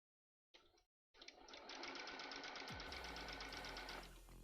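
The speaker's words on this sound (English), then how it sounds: "sewing machine sounds" A sewing machine runs steadily with a fast, even mechanical rattle after a brief start and stop, loud and close, joined by a low hum partway through.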